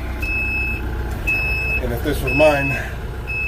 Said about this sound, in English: That backup alarm is, sounds like it's in the cab.